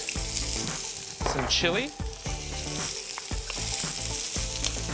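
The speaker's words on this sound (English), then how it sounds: "I'm just going to stir fry that for a few minutes." Garlic, ginger and chili stir-fry in a hot pan with a steady, loud sizzle, broken by repeated scraping and clattering stir strokes; a voice speaks briefly.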